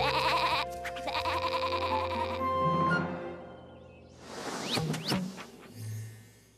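Cartoon sheep bleat several times, wavering cries close by, with a soft background hum and no talking.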